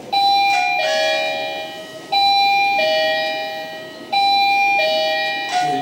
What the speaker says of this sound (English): so you can get the notification when someone presses the doorbell